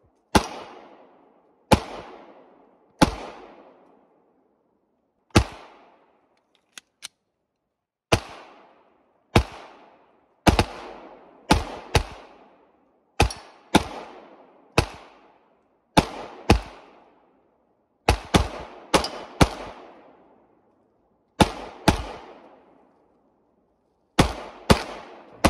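Gunshots from outdoor target shooting in the Green Mountains ring out as sharp, loud single cracks, roughly twenty over the span, some in quick pairs, each trailing into a brief echo with silence between.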